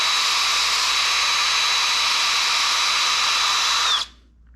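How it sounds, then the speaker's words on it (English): A power drill with a number 20 bit whirs steadily at high speed for about four seconds with a thin whine, enlarging a hole in an aluminum RC truck suspension part, then cuts off and winds down to quiet. "I'm using a number 20 drill bit just to open it up ever so slightly"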